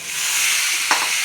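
Sponge gourd (torai) drops into a hot pan of moong dal gravy, setting off a loud, steady frying sizzle and hiss with a brief sharp splash as the pieces land, close up.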